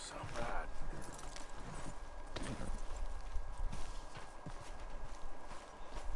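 Horse hooves clip-clop steadily in a cowboy video game, a mid-level rhythmic walking beat under constant game ambience, with someone speaking now and then.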